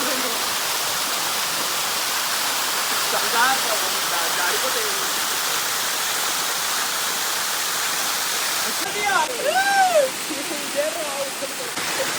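A waterfall in Vizag roars as a constant, dense rush of water, with people speaking faintly over it near the end.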